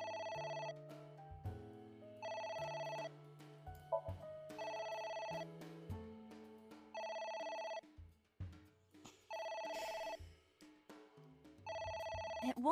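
A telephone rings repeatedly in the game AI: The Somnium Files, a bright electronic bell in regular bursts separated by short gaps, with faint background sounds between rings.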